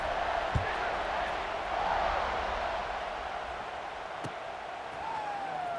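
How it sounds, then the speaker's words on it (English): Simulated stadium crowd in an American football video game, tied in the fourth quarter just after a score, keeps up a steady, fairly loud roar, broken by two sharp thumps and a faint rising whistle-like tone near the end. "this crowd is buzzing after that last score"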